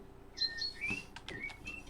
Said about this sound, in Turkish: Bahar mı geldi? Kuşlar uçmaya